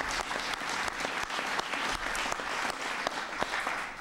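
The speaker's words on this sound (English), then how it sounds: "That's worth applause." Audience applause rings out through a speech by President Obama on insourcing, a steady wash of many hands clapping at moderate volume with no voices over it.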